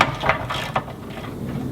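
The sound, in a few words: ratchet removing retaining nut on Land Rover fuel tank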